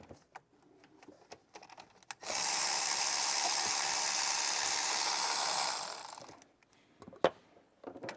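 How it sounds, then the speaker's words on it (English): A ratchet drives out the thermostat housing bolts on a truck, heard as a quick run of close clicks followed by a loud, steady burst of rapid ratcheting that stops abruptly, with a few scattered taps after. "Now we're gonna remove"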